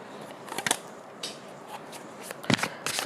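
Tarot cards riffle and slap in short, quiet bursts as they are shuffled and drawn, soft papery flicks scattered across a hushed room with no talking.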